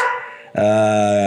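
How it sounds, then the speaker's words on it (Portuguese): A dog barks and howls loudly and close by inside a home, one drawn-out, tonal bark-howl following a brief rougher yelp. "não se assustem se vocês escutarem o meu cachorro latindo, o Bjorn."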